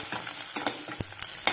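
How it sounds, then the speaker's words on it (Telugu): Onions fry in a pan for tomato rasam, giving a brief steady frying hiss broken by a few light clicks of stirring, close and moderately loud. "కొద్దిగా ఆనియన్స్ కొద్దిగా ఫ్రై కావాలి."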